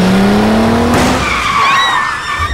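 A car brakes hard with a loud, sustained tire skid that squeals for about a second before shifting into a high, wavering screech that fades out, with no talking.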